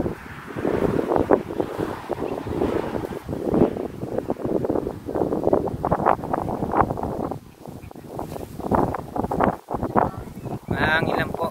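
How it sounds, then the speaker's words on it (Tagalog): Strong wind gusting outdoors at a lavender farm, a loud rushing roar across the microphone that runs under steady talking throughout. "Mahangin lang po"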